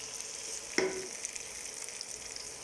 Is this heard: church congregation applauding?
no